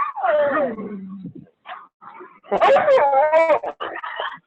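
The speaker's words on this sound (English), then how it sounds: "All my dogs are coming to say hello." Several pet dogs whimper, yip and whine up close in a run of high, wavering cries with brief pauses, and a person speaks a single word among them.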